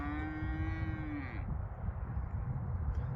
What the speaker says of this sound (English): The calves scare me more than the big cows.